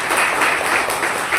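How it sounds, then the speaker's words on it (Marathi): A brief, steady burst of applause from a school-event audience cheering a local girl who passed the IAS mains exam, many hands clapping together, fairly close and even throughout. "याच्याकरता एकदा टाळ्या वाजवा"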